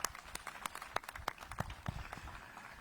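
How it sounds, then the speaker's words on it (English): Scattered clapping from a small group at a ribbon-cutting ceremony, uneven and sparse rather than a full ovation, heard at a moderate distance. "we can clap for them too"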